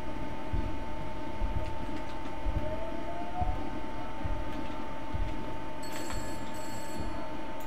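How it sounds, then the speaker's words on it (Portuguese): A telephone rings inside the Roblox horror game Confined, its thin tone sitting under a dense, steady drone of eerie ambience throughout. "Por que tu não pode atender o telefone agora"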